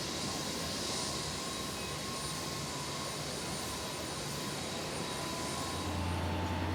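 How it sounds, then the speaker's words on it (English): An airliner sits preparing to depart, its engines giving a steady, broad roar with a faint high whine, constant and moderately loud, without talk. "as the plane prepares to leave"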